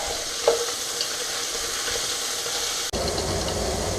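Lamb pieces fry in a hot pan with a steady broadband sizzle, a few soft scrapes and knocks as they are turned, then a sudden louder burst of hissing near the end.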